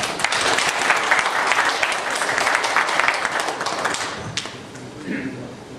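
Applause at a company shareholders' meeting, a fairly loud burst of clapping from a modest crowd that fades after about four seconds into a quieter room with a faint voice.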